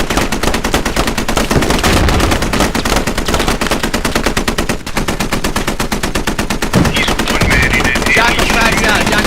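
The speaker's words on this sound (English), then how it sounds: "Put shots on that bridge. Keep them down. Keep putting shots on that shit." Dense, continuous automatic gunfire in the Squad tactical multiplayer shooter, rapid rhythmic bursts filling the whole stretch with only a momentary break, loud and close, with faint voices partly buried in the shooting.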